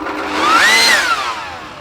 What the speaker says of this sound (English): First thing I'm gonna do is use this Ryobi cordless leaf blower to